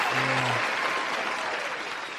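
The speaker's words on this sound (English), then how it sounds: "applause for that" Applause from a crowd fills the space as a steady, dense patter of clapping, loud and continuous throughout, with a brief low hum near the start.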